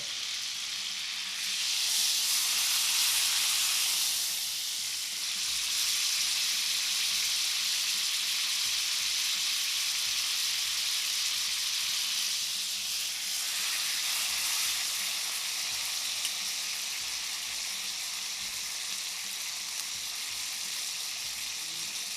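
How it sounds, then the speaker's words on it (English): Fatback fries in a cast iron skillet on a camp stove, giving off a loud, steady sizzle with broad hissing that swells in a couple of surges and carries on without talk. "just let that fat back get nice and cooked before I take it off the skillet"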